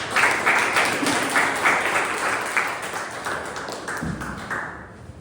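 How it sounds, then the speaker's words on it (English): Applause for a Toastmaster at a Millennium City Toastmasters Club meeting, steady dense clapping from a room audience lasting about five seconds before tapering off at the end. "please give a round of applause for Toastmaster"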